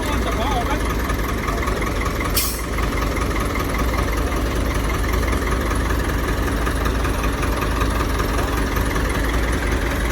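A tractor engine idles with a steady low chugging rumble throughout, close by and continuous, with a brief higher-pitched hiss partway through.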